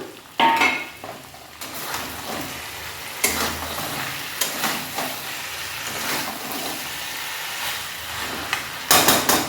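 Pieces of fried fish go into a pan of potato curry, setting off a steady sizzle with stirring scrapes and a few louder bumps and clatters of pan and utensil.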